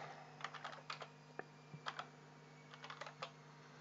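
Quick bursts of keystrokes on a computer keyboard, close and crisp, as a word is typed into kitchen-planning software, with short pauses between clusters and no talking.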